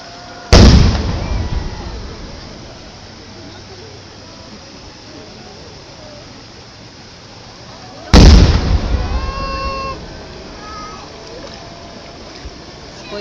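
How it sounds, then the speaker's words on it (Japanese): Two large fireworks burst over an amusement park wave pool, each a deep loud boom followed by a long crackling, rumbling decay, spaced several seconds apart amid faint crowd noise. "すごい大きな花火だね。"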